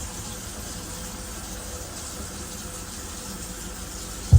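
Water draining from a bathroom sink after a drain fix, a steady close gurgling rush that runs continuously, ending in a brief knock.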